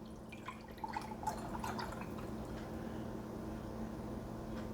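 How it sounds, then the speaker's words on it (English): Melted beef tallow pours into a measuring cup, a soft liquid trickle and a few drips heard close up over a steady low background hum. "now that we've got our tallow melted, we're just going to pour it into a measuring cup."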